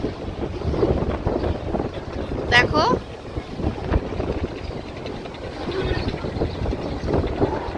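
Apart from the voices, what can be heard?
strong wind during dust storm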